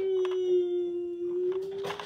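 A puppy lets out a long, steady high-pitched howl that holds one tone, with a few small yips and whimpers breaking in.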